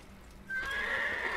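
A horse in the video game Assassin's Creed gives a sudden, high whinny that rises out of near silence and holds as a bright, quavering neigh.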